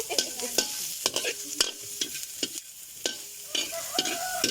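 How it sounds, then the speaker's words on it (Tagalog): Pond shells and onion being stirred in a pan: repeated sharp clacks and scrapes as the hard shells knock against the metal, coming in an irregular rhythm over a light background sizzle. "Yan, hinahalo po."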